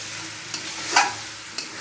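Chicken pieces, over a kilo, frying in a pan with a steady soft sizzle, stirred with a few scrapes, one louder stroke near the middle; close and fairly quiet, no voices.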